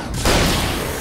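A shotgun blast in the video game Alan Wake: one loud, broad boom that cuts in abruptly and rolls on as a sustained roar to the end.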